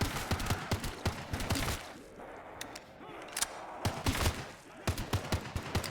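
An assault rifle fires in the VRChat game Zombies Trinity: rapid, close bursts of shots in quick rhythm, a brief lull, then more fast strings of gunfire.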